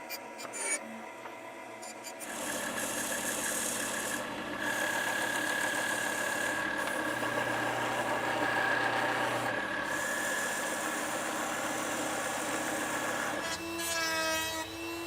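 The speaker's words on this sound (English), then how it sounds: "I took the piece to the bandsaw to cut away the tabs" A bandsaw cuts away the tabs from a wooden box piece: the motor spins up, then a steady whining drone with a sustained high tone runs for about ten seconds before winding down, close and continuous, with no talking.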